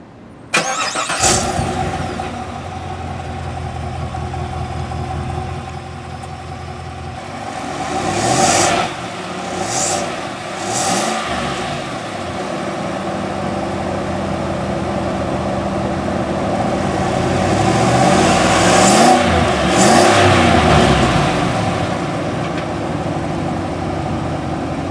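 A 2015 Cadillac Escalade with a 6.2-liter Ecotec3 V8 of 420 horsepower starts up and idles close by, then revs several times, each rev a rising and falling roar over the steady engine note.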